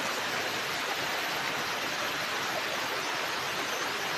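A natural stream rushes steadily nearby, an even, unbroken wash of flowing water with no pauses.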